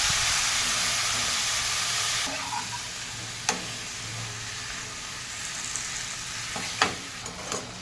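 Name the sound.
mushrooms sautéing in oil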